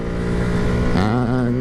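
A pair of KTM motorcycles passing by, engine note swelling and sweeping in pitch as they go past close, loud over a steady rumble.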